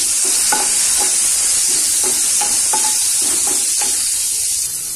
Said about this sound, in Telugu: ఫ్రై చేసుకోవాలి బాగా.